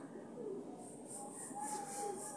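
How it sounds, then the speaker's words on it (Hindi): A pigeon coos close by in soft, low, rolling calls, with faint chirps and light background noise around it. "यहाँ एक और कबूतर आ गया।"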